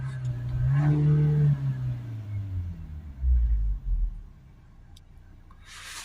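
Vauxhall Vivaro 1.6 diesel van engine revved during acceleration, being checked for a turbo boost and particle filter fault; a close, loud rev climbs and falls, followed by a second deeper surge before dropping back toward idle.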